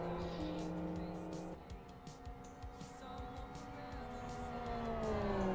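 Race cars in the Live for Speed driving game roar through turn 1 during a 4-hour endurance race at Aston, with steady engine drone, gear changes and tire squeal as cars battle closely, loud and continuous throughout.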